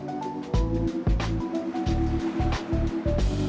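Grumman Albatross radial aircraft engine cranking on its starter in a false start, a loud chugging, uneven rhythm of labored turns with pulsing bursts that never catch into a steady run.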